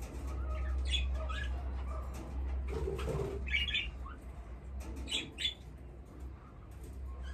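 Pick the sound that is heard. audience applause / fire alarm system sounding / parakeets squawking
parakeets squawking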